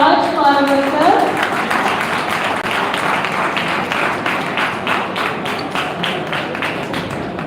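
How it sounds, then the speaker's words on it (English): Applause for the chief guest at an Engineers Day celebration at a university in Punjab: a hall crowd claps in a dense, sustained patter, with a voice speaking over the start. "Please have a big round of applause for our sir."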